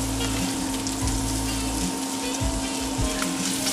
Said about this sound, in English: I'm going to put my garlic in now.